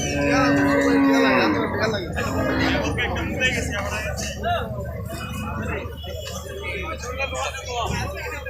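Cattle lowing at a busy Friday cattle market in Mainamati, Comilla, a long moo rising over constant chatter of many voices and general crowd bustle.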